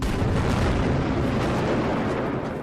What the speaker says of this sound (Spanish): Aquí realizamos varias explosiones al día.